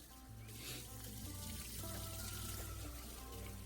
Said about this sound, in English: Rinse it out one more time just to see what's left.